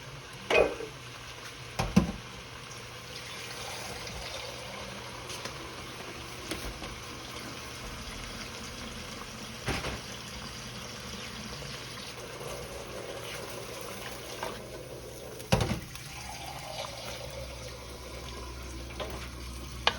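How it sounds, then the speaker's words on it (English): Water runs steadily into a pot of cornbread dressing with a continuous splashing wash, broken by a few sharp metallic clanks and knocks. "we're gonna add water to this, of course."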